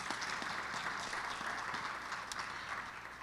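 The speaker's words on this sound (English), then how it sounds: "Let's give all of our monologues a round of applause." A crowd applauds after children's monologues at a model and talent showcase, a short burst of sustained, even clapping from a seated audience heard on its own.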